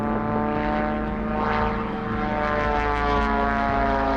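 A propeller stunt plane flies over a jetty at an oyster festival in Ceduna, its engine a loud, steady droning buzz that swells slightly as it passes, heard alone with no talk.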